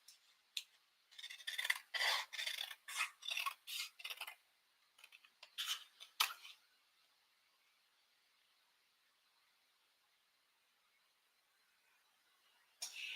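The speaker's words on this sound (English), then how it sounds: "I'm reading and cutting at the same time, so I have to be careful." Scissors snip through paper during a craft session in a quiet room, with a run of about a dozen quick, crisp cuts in close rhythm, then a long near-silent pause and one more snip at the end.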